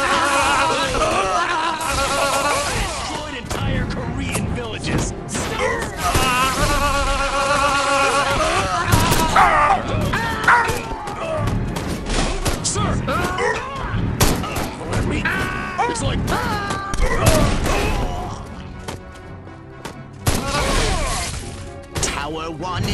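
Rapid bursts of gunfire pound a defensive tower during a chaotic battle in Destroy All Humans on PS5, dense volleys and crashing impacts layered under loud game music and frequent in-game voices.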